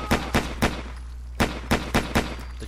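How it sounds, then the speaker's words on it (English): Eight sharp, loud shots from the Seburo CX Exploder 10mm pistol in Fallout 4, fired in two groups of three and five with a short pause between, over a steady low hum. "The gun sounds good."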